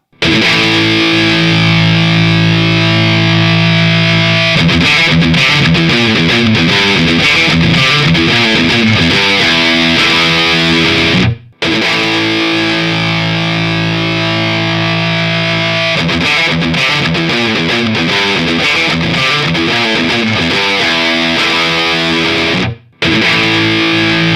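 Distorted electric guitar through a Laney amp and 1x12 and 4x12 cabinet impulse responses plays a chugging riff, then a sustained chord, repeated twice with a brief cut between passes, loud and dry.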